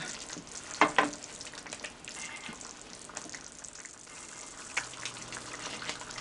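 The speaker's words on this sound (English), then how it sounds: "I'm going to fry this about 15 minutes" Palm oil mixture frying in a pot for black-eyed peas, a steady soft sizzle with a couple of sharper clinks of a utensil early on, fairly quiet and alone without talk.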